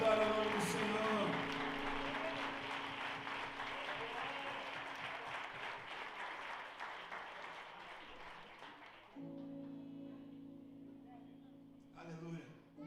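A church congregation applauds during a worship service, sustained clapping that gradually fades, then gives way to sustained tones near the end.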